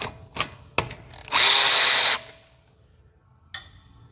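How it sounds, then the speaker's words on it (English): A quarter-inch ratchet works on 14 mm caliper bracket bolts of a car's brakes: a few sharp clicks, then a loud, rapid burst lasting under a second, followed by quiet and one last click. "1/4 inch ratchet."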